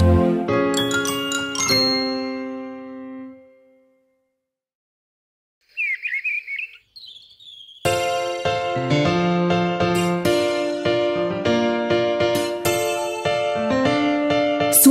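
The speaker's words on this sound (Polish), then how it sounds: "słyszysz dzwoneczek?" A small bell tinkles in a Polish children's nursery song: a brief, bright jingle in a quiet gap between two loud musical passages.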